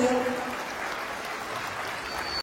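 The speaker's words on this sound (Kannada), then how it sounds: "ಬರ್ಲಿ ಜೋರಾದ ಚಪ್ಪಾಳೆ" Audience applause fills a hall at a Kannada music concert in London, a dense, steady wash of clapping that holds at even loudness for a couple of seconds, with faint voices and crowd noise beneath it.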